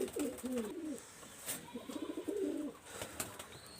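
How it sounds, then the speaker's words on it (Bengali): Nildumba pigeons cooing in repeated low, rolling phrases, several overlapping calls close by with faint background noise. "এটা হলো আপনার নীলদুম্বা কবুতর"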